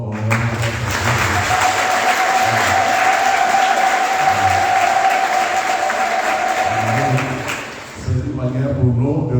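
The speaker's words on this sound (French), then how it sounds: "Donc, on applaudit d'abord." A church congregation at Notre Dame de l'Ogooué parish applauds during Mass for their priest's birthday, a sustained broad wash of clapping lasting several seconds under a held musical tone, with voices and music surfacing at the edges.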